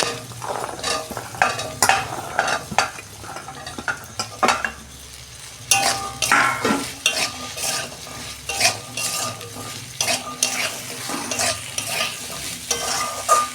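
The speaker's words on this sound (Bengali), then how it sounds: "আমি 2 মিনিট ভেজে নেব ঢ্যাঁড়সগুলো" Okra frying in a pan on top of already fried onions, a close sizzle broken by frequent spatula stirs and scrapes against the pan, with no talking.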